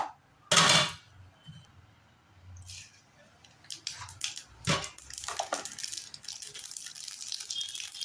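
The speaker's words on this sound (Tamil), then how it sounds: "எண்ணெய் காஞ்சிருச்சு இப்போ அடுத்து நம்ம கடுகு போட்டுக்கலாங்க" Mustard seeds go into hot oil in a small kadai for tempering. A loud crackling burst is followed by softer scattered pops and a rising sizzle that spreads into continuous spluttering.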